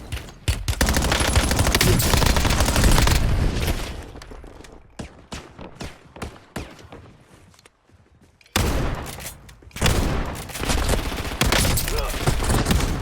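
Rapid automatic gunfire in the Warzone battle royale video game, dense close bursts that thin into scattered single shots before heavy firing resumes, with a voice briefly heard.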